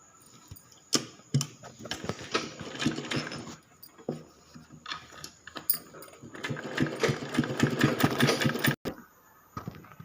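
Sewing machine stitching fabric for a frill baby frock, running in short bursts at first, then a longer steady whirring run, close and loud.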